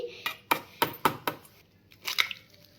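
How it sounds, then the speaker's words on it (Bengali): An egg is cracked for an omelet, several sharp taps of shell against a hard edge at uneven intervals, close and fairly quiet, then a couple of softer clinks. "তো এটা হলো ডিমটা আমি ফাটাতে যাচ্ছি।"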